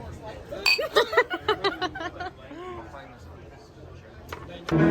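Glasses clink together in a toast among friends at a cruise ship bar, a quick run of bright chiming taps near the start amid lively voices and cheering, followed by a louder burst of sound at the end.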